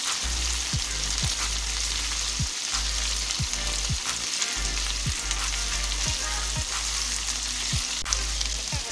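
Mutton liver (kaleji) fries on a hot tawa with a loud, continuous close-up sizzle, broken by regular scraping strokes of a spatula roughly every half second to second, with no voices.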